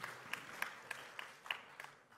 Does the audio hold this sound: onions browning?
no